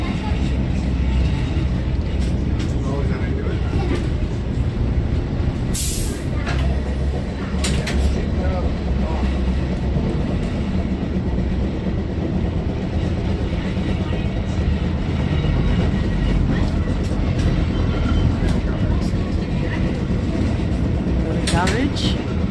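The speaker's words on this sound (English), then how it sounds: "So we just set off on the tram with the old cars over there." Continuous low rumble and rattle of a heritage tram rolling along rails at Fort Edmonton Park, loud and close, with occasional squeals and clunks throughout.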